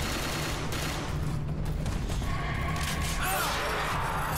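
Rapid bursts of gunfire from the Concord video game beta, dense and continuous throughout, layered with game effects and some background voice.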